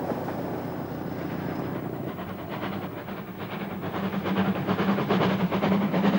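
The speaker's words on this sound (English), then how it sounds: "Diesel trains took over the work of the steam trains." A diesel train rumbles steadily past with a droning engine and a rhythmic clatter of wheels that swells louder toward the end.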